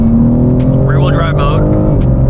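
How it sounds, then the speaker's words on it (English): A BMW G82 M4 in rear-wheel drive mode pulls hard, its engine note loud and rising with a brief tire-squeal-like whine in the middle, heard close from inside the car. "Let's do a nice little pull here."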